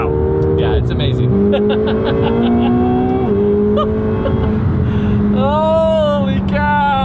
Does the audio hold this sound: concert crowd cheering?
no